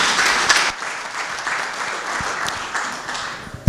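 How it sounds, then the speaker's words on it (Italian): Applause from an audience at a film festival awards ceremony in Ruvo del Monte, Basilicata, a steady wash of clapping that gradually thins and softens toward the end. "Ancora un applauso a Sofia."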